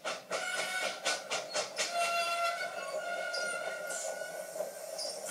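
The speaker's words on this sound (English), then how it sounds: "The driver halted the train and got out." A steam train slows toward a halt, with rhythmic clanking and hissing pulses at first that thin into a steadier mechanical rumble and squeal, loud and close throughout.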